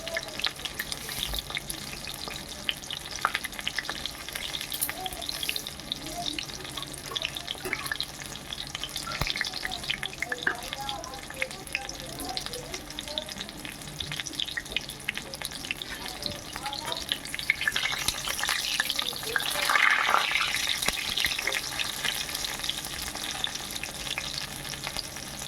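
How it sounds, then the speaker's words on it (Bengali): Ash gourd leaf fritters fry in hot oil with a steady, broad sizzle throughout, occasional stirring and a brief rise in intensity near the end, with no talk. "বেশ লাল লাল করে ভেজে নেব।"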